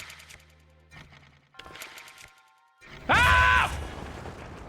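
A bomb detonates in Mario Kart World on Switch 2 with a short, bright, loud blast after quieter game sounds, a sharp burst lasting about half a second before dropping away.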